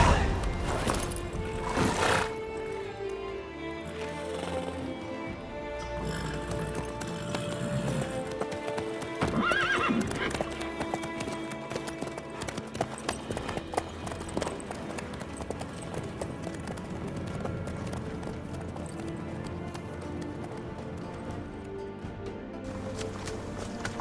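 Horse hooves from The Witcher 3 clip-clop in a steady trotting rhythm, joined by a whinny and a snort, under game music and ambient sound throughout.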